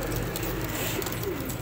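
Sialkoti pigeons of the Johnsiry type coo in a low, steady murmur, a continuous close burble filling the short stretch without pause.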